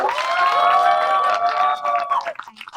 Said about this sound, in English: I want you all to give a loud round of applause.